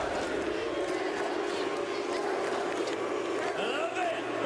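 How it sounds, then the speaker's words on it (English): Crowd noise at an esports watch party in Paris for a VALORANT grand final, a dense steady roar of many voices that may carry an NRG chant, loud and continuous throughout. "You want to start an NRG chant right now?"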